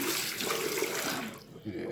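Tap water gushes steadily during bathroom cleaning in a rental home, a broad hissing rush that cuts off after about a second and a half, with a voice speaking over it.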